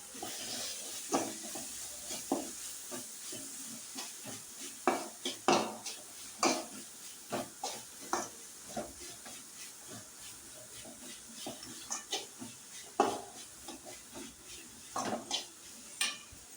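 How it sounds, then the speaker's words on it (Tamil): Egg being stirred and mixed with salt and spices in a frying pan, with a spoon scraping and clinking against the metal over a faint sizzle, irregular and steady, close but fairly quiet, with no talking. "நல்லா கலந்து விட்டுக்கலாம்."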